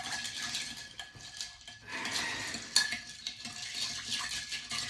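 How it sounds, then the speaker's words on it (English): A drink with ice being stirred in a cup, soft clinks and rattles of ice and spoon in irregular bursts, close and fairly quiet. "I'm gonna stir this up."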